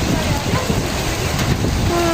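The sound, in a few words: heavy rain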